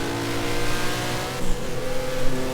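Engine of the first Ferrari ever built by Enzo Ferrari and his team, heard while driving: a close, steady tonal drone with a slight rise in revs partway through.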